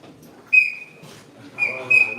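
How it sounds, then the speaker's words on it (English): A referee's whistle at an arm wrestling championship in Northern Uganda gives two sharp, steady blasts, a short one and then a longer one, over faint background murmur. "Whistle."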